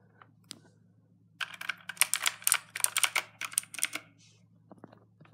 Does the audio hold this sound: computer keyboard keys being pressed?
yes